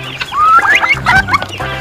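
Chickens clucking close by as they eat processed feed, a run of short chirpy calls and murmurs with low rumbling beneath, steady and busy throughout.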